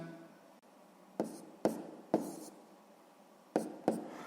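A pen taps and scratches on paper while working a multiplication by hand, giving several short distinct strokes in a quiet room, with pauses between them and no talking.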